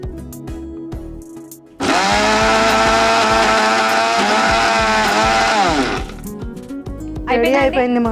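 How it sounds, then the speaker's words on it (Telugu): A kitchen mixer grinder whirs loudly as it blends coriander into a toor dal paste, a sustained motor whine of about four seconds that bursts in, then stops, with a brief second run at the end. "ఇప్పుడు ఇది మిక్సీ పట్టేసుకోవడమే కదా."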